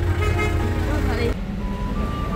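Traffic jam at Sukhia market near Darjeeling, with engines rumbling close by and a sustained car horn tooting over the noise, while a person talks.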